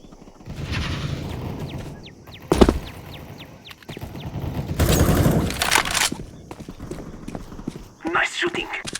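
CS:GO team deathmatch gunfire on the Ancient map: three short, sharp bursts spread over several seconds, between rapid clip-clopping footsteps and busy background game noise.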